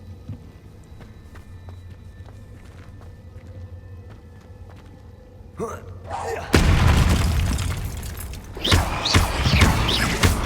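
A Confringo blasting spell from Hogwarts Legacy bursts with a sudden loud explosive boom that follows a quieter stretch of ambient background, and a second crackling blast comes shortly after.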